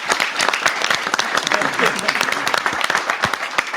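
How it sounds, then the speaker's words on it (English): An audience applauds speakers at the close of a talk on forecasting solar power and managing water with machine learning: loud, dense clapping throughout, with a few voices mixed in. "So round of applause for our speakers."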